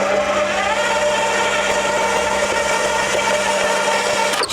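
A steady, loud electric mixer hums on low speed, beating cream cheese for a New York cheesecake, its whir continuous and unbroken throughout with no voices.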